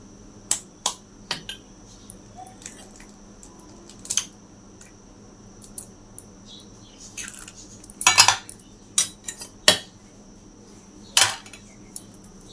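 A spoon clinks and scrapes against a bowl while an egg is mixed with a spoonful of coconut oil. The sharp taps come in irregular bursts, with a brief cluster near the end, over a quiet background hum.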